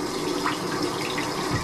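Water running to fill a container for drinking through a straw, a steady rushing splash at close range with no talk, continuous throughout the short moment.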